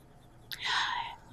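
Colored pencil tinting and shading on paper with a dull, flat-tipped pencil in light, small circular strokes: a soft, close scratchy rasp that starts abruptly and continues for just under a second, alone.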